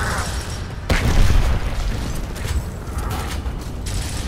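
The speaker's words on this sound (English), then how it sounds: "Throw the grenade." A grenade blast in the video game Gears of War, a sudden loud boom that rolls into dense, rumbling debris and mechanical clatter before trailing off into steady game-battle noise.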